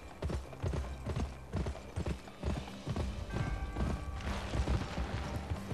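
Horse hooves clip-clop steadily while riding in the video game Gun, an even galloping rhythm of close, thudding strikes with faint creaks and mechanical background sounds.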